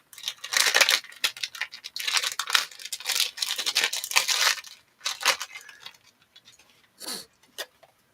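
One Piece trading card packs are torn open by hand, bursts of close crinkly foil ripping and crumpling in irregular clusters, fading to a few sparse rustles toward the end.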